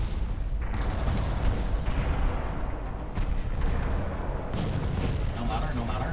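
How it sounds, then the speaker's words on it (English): 8-inch naval guns firing in the naval battle game Ultimate Admiral Dreadnoughts, a series of deep booming shots and rumbling blasts in irregular succession over continuous low battle noise. "The blessing of 8-inch guns. They rock against small ships."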